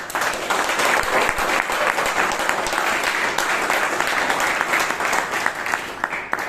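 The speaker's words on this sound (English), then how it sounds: "let me hear a round of applause just as a practice" Steady, full applause from the audience at a Bangalore Toastmasters club meeting, a continuous wash of many hands clapping evenly throughout, close and loud.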